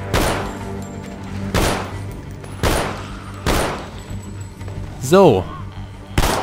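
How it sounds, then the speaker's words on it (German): Gunshots fired at zombies in the video game The Walking Dead: Survival Instinct, four loud, evenly spaced sharp bangs, with a brief spoken word and a short tonal game sound between them. "Soll ich wirklich schießen?"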